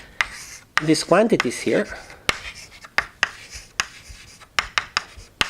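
Chalk tapping and scraping on a board in a physics lecture room, a series of sharp knocks and short strokes at irregular intervals while someone talks over the first part.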